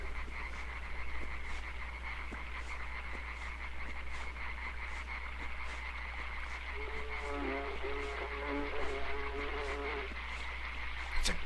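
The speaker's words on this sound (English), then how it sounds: "It's a creepy little buzzing noise. And jump! Good work. I think those are flies?" Flies buzzing in the dark forest of the video game Limbo, a faint steady drone layered over a pulsing chorus of croaking frogs and insect ambience, with no talk.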